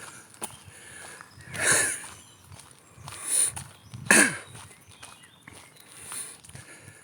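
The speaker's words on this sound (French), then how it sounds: "j'arrête pas de tousser" Several bursts of coughing come at intervals between quieter rustling and shuffling, close and fairly loud, with pauses between each fit.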